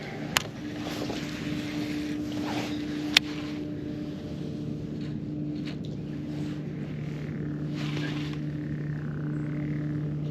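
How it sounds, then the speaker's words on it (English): Frogs croak near the Chowan River in a steady, continuous low drone that lasts throughout, with a pair of sharp clicks and faint wind and boat-like rumble in the background. "Hear them frogs up there croaking."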